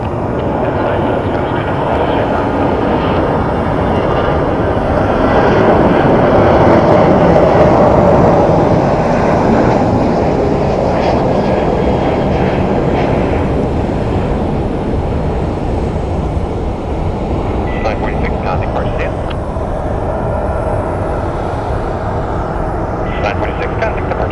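Airliners arriving and departing at Phoenix Sky Harbor Airport make a loud, broad jet engine roar that swells and slowly fades over many seconds.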